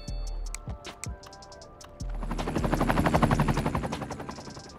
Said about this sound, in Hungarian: nagyon mennek a helikopterek